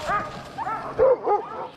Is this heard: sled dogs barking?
yes